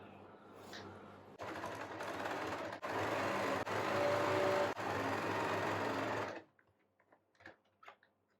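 Close sewing machine stitching a back-open blouse, running in a steady whirring burst of about five seconds with brief pauses between runs, then stopping and leaving faint clicks and rustles.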